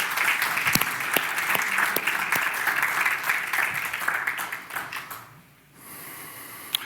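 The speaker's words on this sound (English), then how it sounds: "Give him a round of applause." Audience applause after a talk, a dense steady patter of many hands clapping with a few louder claps, fading out near the end into a quiet room hush.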